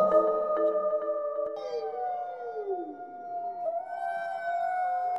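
Wolves howl in long, wavering tones that slide up and down and overlap, continuing steadily without pause.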